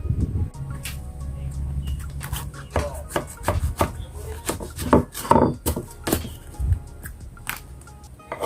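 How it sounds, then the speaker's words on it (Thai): A knife chops banana blossom rapidly on a board, uneven bursts of sharp taps starting after a low rumble, close and fairly loud. "เดี๋ยวเราจะหั่นปีกล้วยใส่"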